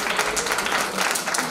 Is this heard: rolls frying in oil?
no